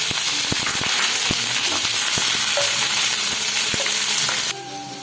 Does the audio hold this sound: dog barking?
no